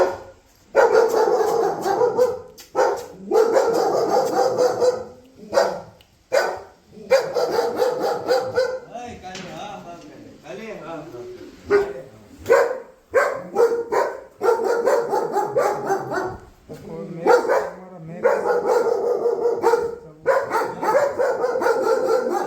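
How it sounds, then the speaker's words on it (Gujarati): Several domestic dogs bark loudly and close by in repeated bursts, with occasional yips and whimpers between, continuing steadily with brief gaps over about twenty seconds. "પાળી ગયેલા કૂતરા પણ છે."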